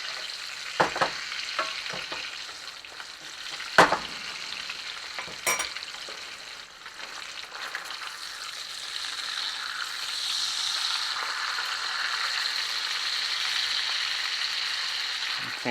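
Ribeye steaks and eggs fry in butter in a cast iron pan with a constant close sizzle. A few sharp utensil clicks and scrapes come early, then the crackling hiss swells and holds steady toward the end, with no voices.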